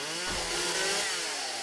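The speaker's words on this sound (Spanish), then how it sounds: "Voy a matar a aquella con la motosierra, a ver." A chainsaw in the video game 7 Days to Die revs loudly in a short, harsh burst, its engine buzz rising and holding close up.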